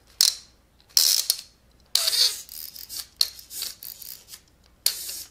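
A 90s Halloween Happy Meal toy's wind-up mechanism clicks and ratchets up close in several short bursts of rapid plastic clicking, separated by brief pauses, with no voices.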